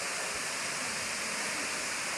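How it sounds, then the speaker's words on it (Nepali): Steady broadband rush of water from Sunchhahaari waterfall in Rajpur, Dang, heard up close as a continuous, even roar with no voices. "सुनसारी झरनाको एकदमै नजिक आइपुगेका छौँ। आवाजहरू हामीले सुनिरहेका छौँ।"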